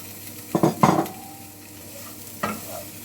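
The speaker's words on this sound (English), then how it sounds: "Now I am adding boiled potatoes." Boiled potatoes tipped into a hot pan of softened onions and spices for a coconut potato curry, a couple of scraping stirs and a soft thud over a low sizzle, close, with a later single clatter of the spoon.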